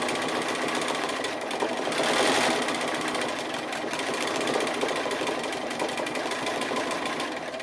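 A sewing machine runs continuously at a steady fast rhythm, free-motion stitching applique on a Hawaiian-style quilt. Close and even, with no talking.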